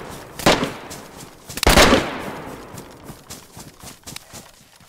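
Gunshots in DayZ on PS5: two loud, sharp reports about a second apart, followed by fainter scattered pops trailing off.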